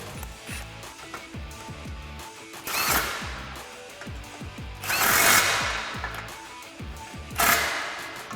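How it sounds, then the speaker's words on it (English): A 15mm socket ratchets tight a stainless steel exhaust clamp on a 2015-2017 Mustang GT, rapid clicking bursts with metallic clanks and brief louder rattles, close by and without talk. "Now we can go ahead and tighten up the clamp on the passenger side using our 15mm socket"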